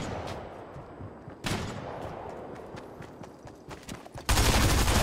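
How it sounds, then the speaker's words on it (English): Gunfire in Fortnite Battle Royale: scattered sharp shots and cracks, a few louder bursts, moderately distant and quiet, ending in a loud burst of broadband noise. "I'm getting shot at!"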